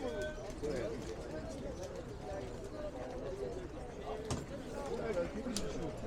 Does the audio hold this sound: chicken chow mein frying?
no